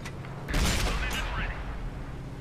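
A tank cannon in World of Tanks booms with a heavy blast followed by a rumbling tail, with a brief sharper report after it, as a voice talks over the action.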